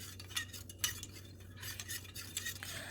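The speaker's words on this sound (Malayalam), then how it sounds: "ആ പാലിലേക്ക് അളന്ന് വെച്ച പഞ്ചസാര നന്നായിട്ടൊന്ന് ഇളക്കി അലിയിപ്പിച്ചെടുക്കണം കേട്ടോ" A spoon stirs sugar into milk to dissolve it, making quick, light clinks and scraping swishes against the container in an irregular rhythm, close up with no voices.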